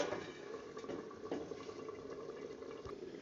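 A small amount of water is poured into a pan of nearly cooked radish, taro and spinach greens, making a steady, soft hissing wash of liquid at close range with no talk.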